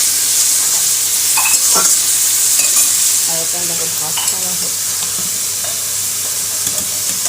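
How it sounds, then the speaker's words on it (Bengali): Carrots and beans fry in ghee and white oil for fried rice, giving a loud steady sizzle with scraping stirs throughout while a voice speaks briefly over the cooking. "গাজর বিনস ভাজছি।"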